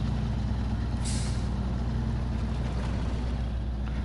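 A heavy truck engine idles and crawls on light throttle in the SnowRunner off-road driving game, a loud steady low diesel rumble with a brief hissing burst near the start.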